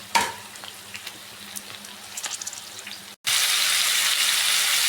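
Tomato pieces and slit green chillies hitting a hot pan for tomato bath, a faint crackle with a few soft clinks, then a sudden loud, bright hiss of frying that stays steady to the end.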